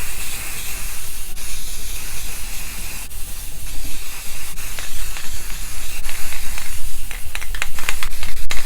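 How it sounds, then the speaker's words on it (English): Clear finish sprayed from a can onto a wooden fish cut from a board and painted as a redfish, a loud close hiss in repeated bursts with brief breaks between them. "all you got to do is spray it on"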